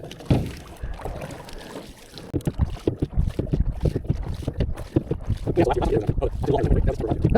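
A small boat motors across a winter lake, its hull slapping the water in an uneven rhythm while gusts of wind buffet the microphone, with a voice briefly heard early on.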